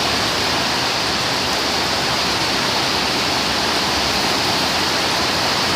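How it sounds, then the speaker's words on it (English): Heavy tropical-storm rain pours in a loud, steady broadband roar with gusty wind mixed in, constant throughout with no voices. "It is heavy rains in Santi Grande."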